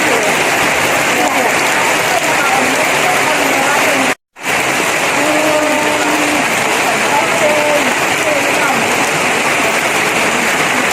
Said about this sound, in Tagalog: Naabutan kami ng ulan.